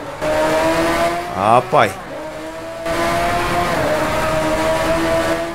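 Race car drifting in DriveClub with tire squeal, a Lamborghini Veneno or Ferrari Enzo, steady engine tone with a rising squealing sweep mid-way, then engine drone resumes; someone speaks briefly over it.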